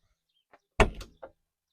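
A farm door, apparently without any lock, is opened outdoors in the countryside after rain, giving one loud close thump with a rattling scrape, then a short softer knock.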